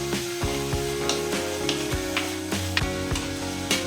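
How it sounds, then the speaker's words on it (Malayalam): Small onions and crushed garlic frying in hot tempering oil, a bright continuous sizzle with repeated rhythmic clinks of a spoon against the pan, close and without talk. "ഇനി ചെറിയ ഉള്ളിയും വെളുത്തുള്ളി ചാച്ചത് ഇട്ട് കൊടുത്തിട്ടുണ്ട്"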